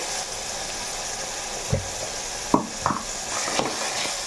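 Chicken curry ingredients, eggs and chicken, fry in a pan with a steady broadband sizzle throughout, broken by a few sharp scrapes and clanks from stirring, moderately close.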